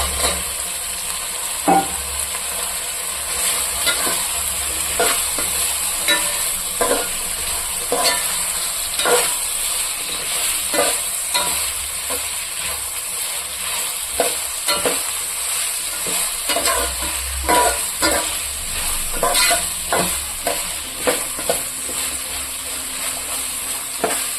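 Chopped carrot, beans and kohlrabi fry in a pan for vegetable pulao, a steady low sizzle punctuated by repeated sharp scrapes and clinks of stirring.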